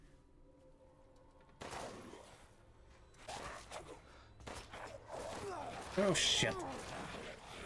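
Gunshot fired in the survival horror game Resident Evil Village, a sharp loud burst standing out near the end over game ambience, with a person talking and exclaiming around it.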